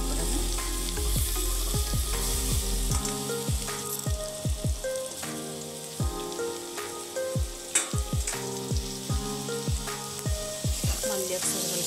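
Cooked greens being stir-fried in a pan, a loud sizzle at first, then repeated stirring scrapes and clacks with crackling frying continuing between them, close and without talk.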